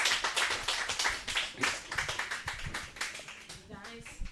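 An audience at a love-songs event claps for the final guest, loose bursts of hand claps in an uneven rhythm with cheering voices over them.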